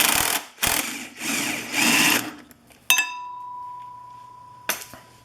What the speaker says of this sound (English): I have a small impact to make it a little quicker